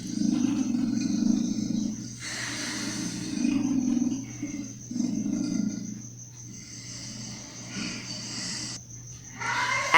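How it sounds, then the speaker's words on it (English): A leopard calls in a series of rough, rasping bursts that repeat at a steady pace, each lasting about a second, fairly loud and close over a constant low hum. "Leopard."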